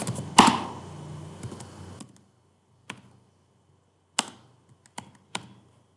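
A computer keyboard is typed on in a few sparse, crisp taps. The first part is busier, and the keystrokes then come singly across quiet gaps.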